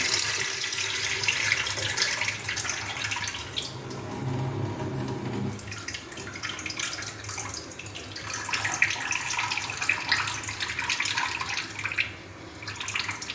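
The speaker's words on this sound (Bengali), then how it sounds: "আমি যে বাদশাভোগ চালটা ভিজিয়ে রেখেছিলাম, তো আমি জলটা গড়িয়ে দিচ্ছি" Soaking water drains off Badshabhog rice, a continuous close rushing stream that thins midway then picks up again, with no voices.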